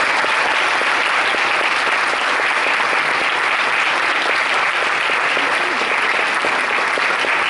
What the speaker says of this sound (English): can we give another warm applause to the West Mountain Wind Orchestra for a brilliant performance.